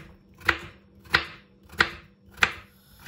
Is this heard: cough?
no